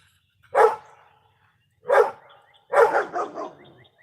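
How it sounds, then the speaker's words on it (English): A dog barks while chasing a squirrel alongside a neighbor's dog, giving three loud, close barks with gaps between them, the last a quick doubled bark. "her and the neighbor's dog are after the same squirrel"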